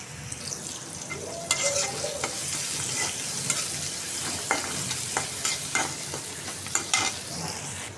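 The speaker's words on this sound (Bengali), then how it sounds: "আলুগুলো ভাজা নিতেছে আগে" Potatoes stirred and fried in a pan while cooking a taro-root mash dish, a steady sizzle broken by repeated scraping strokes of the spoon, close and moderately loud.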